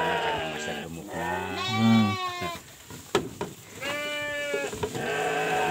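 Sheep on a farm bleating several times, with loud, wavering calls in short bursts separated by quieter gaps, close by and with no speech.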